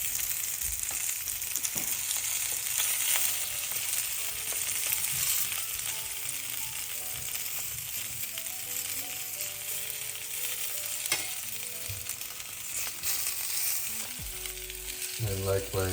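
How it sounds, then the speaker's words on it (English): Pomfret fish fries in coconut oil in a pan, giving a steady, close sizzle throughout, with brief scraping and stirring clatter near the end. "Then flip the fish when it's cooked on the other side."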